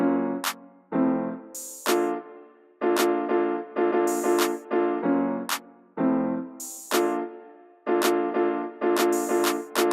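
A trap beat pulses with punchy claps, sizzling open hi-hats and layered melodic hits in a steady repeating rhythm.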